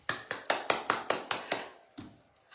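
Hands clap for a guest arriving in a studio show: about nine sharp, evenly spaced claps close by, a short pause, then one more clap, with no voices over them.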